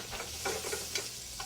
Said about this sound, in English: Oh, the sweet sizzle.